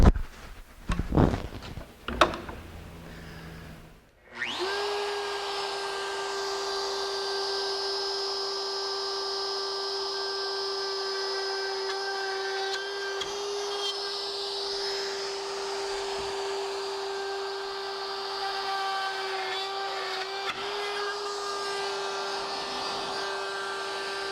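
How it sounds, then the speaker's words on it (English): A plunge router with a 1/4-inch down-cut spiral bit spins up after a few knocks and handling sounds, then drills wood for a bread board with a high, whining drone holding a constant pitch for about twenty seconds. "I've got a plunge router with a 1/4-inch down cut spiral bit"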